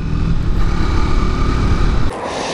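Triumph 400 single-cylinder motorcycle ridden along a winding road, a steady, loud engine drone with strong low rumble that drops off sharply near the end.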